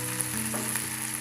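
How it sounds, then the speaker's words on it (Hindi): Masala paste for pea kachori frying in a pan until golden brown, giving a steady, close sizzle that runs without a break, with no voices. "इस पेस्ट को हमें गोल्डन ब्राउन होने तक भूनना है।"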